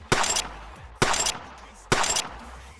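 Three evenly spaced gunshots, about one per second, from a custom sidearm called Last Letter in Destiny 2, each a sharp loud crack with a short decaying tail, no voices.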